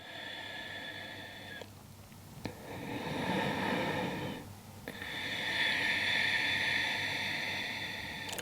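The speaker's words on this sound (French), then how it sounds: "5 profondes respirations." Slow, deep breaths during a gentle beginner yoga session, long inhales and exhales heard close over a steady background hiss, with no talking.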